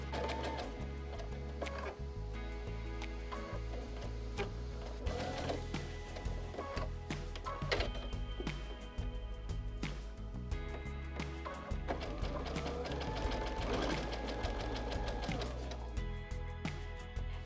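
A sewing machine stitches a quilt's center square between two sashing strips with a quarter-inch seam, running in steady mechanical bursts with short pauses and a constant hum behind it.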